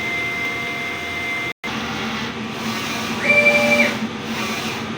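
A DTF printer whirs faintly during a nozzle test, with a thin electronic tone, a brief dropout, then a louder stretch of carriage movement.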